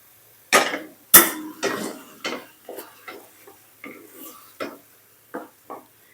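King oyster mushrooms stir-fried in a pan, heard as a series of separate close clinks and scrapes of a utensil against the pan, sharp at first and then lighter and spaced out, with no talking.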